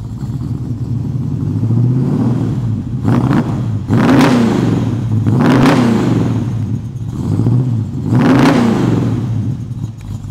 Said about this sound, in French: Va derrière, s'il te plaît, Ruben, je vais mettre un ou deux coups de gaz.